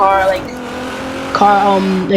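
Engine of an Infiniti Q50 Eau Rogue build in Forza Horizon 4 revving loud and close, pitch dipping and then jumping sharply back up partway through, with harmonic tones.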